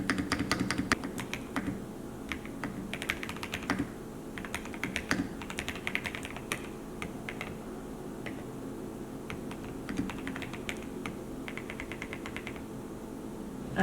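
Typing on a newly built QK80 mechanical keyboard, a steady run of close, crisp key clacks in uneven bursts with short pauses, over a faint background hum.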